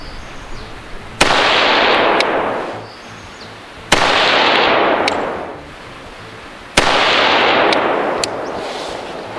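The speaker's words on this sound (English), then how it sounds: "let's do the first 3 shots on the bullseye" Three sharp rifle shots firing 55 grain Silverado hollow point rounds at a bullseye crack out a few seconds apart, each followed by a long rolling echo that fades before the next.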